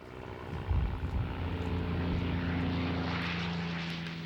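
A P-51 (F-51) Mustang propeller fighter plane drones past, with a strong tonal engine hum that swells after a low rumbling onset and holds steady, fairly loud and alone.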